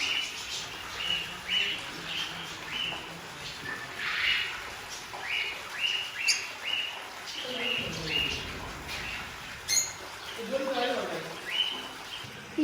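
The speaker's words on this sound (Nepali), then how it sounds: "दामी दामी चराहरू यहाँ।" Small birds chirp and tweet in short, repeated bursts at a zoo, moderately faint and scattered around, with a brief lower call near the end and faint background murmur.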